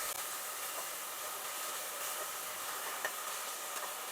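Ginger garlic paste sizzles while sautéing in a pan for a coconut milk veg pulao, giving a faint, steady hiss with one small clink partway through and no talking.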